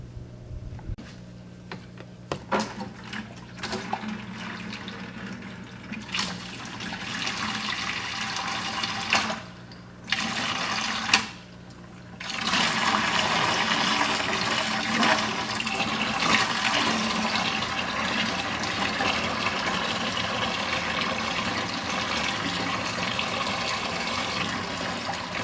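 Water is drained and poured during a water change in a betta fish tank, a rushing, gushing flow with brief pauses around the middle, then steady filling noise, fairly close, with no voices.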